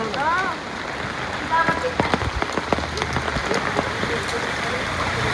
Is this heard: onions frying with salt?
no